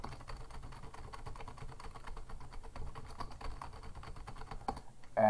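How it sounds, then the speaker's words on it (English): Random words are tapped out on a computer keyboard into a text file in the Haiku terminal, a brisk continuous patter of close keystrokes without speech. "now I can start typing down some random words by just using a keyboard"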